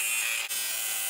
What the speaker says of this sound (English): I'm taking a grinder and I'm grinding the heads kind of in an X pattern